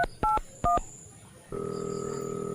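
Telephone keypad dialing, two short two-tone beeps close together followed by a steady, continuous ringing tone on the line, heard clearly with no speech.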